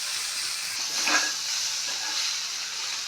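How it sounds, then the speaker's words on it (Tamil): Banana flower and egg podimas is stirred and fried in a pan, giving a steady close sizzle and hiss with a brief louder scrape of stirring near the middle and no talking. "நம்ம என்ன பண்ணோம்னா பூவோடு சேர்ந்து கிளறிடும்"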